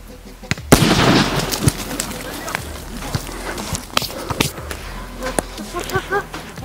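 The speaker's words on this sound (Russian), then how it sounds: "Сейчас остается нам подключить пару крон к нашим запалам и готовиться к большому взрыву" Firecrackers packed into four watermelons go off in a sharp burst of blasts, then a string of scattered pops and crackles follow, with voices and birds heard outdoors.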